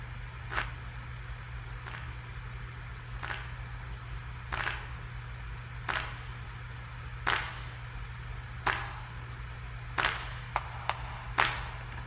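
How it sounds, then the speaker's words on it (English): Sampled claps in a Logic Pro beat ring out as sharp, crisp hits at a steady pace, with a few quicker hits near the end, over a low constant hum and no voices. "here we have some claps. You know, again to like add to that ambiance of like a live audience"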